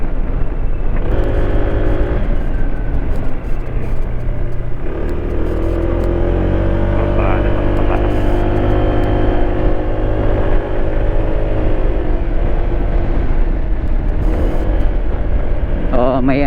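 Honda ADV 160 scooter climbing uphill with traction control on, its engine droning steadily and loud under wind rush, pitch shifting as the rider holds the throttle; a rider's voice is faintly present.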